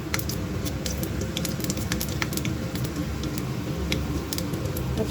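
Panch phoron spices spattering in hot oil in a home kitchen, a continuous close sizzle dotted with sharp, irregular crackles and pops.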